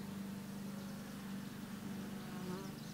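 Honeybees buzz around the entrance of a backyard beehive, a steady low drone of many wings close by, faint and continuous with no talk.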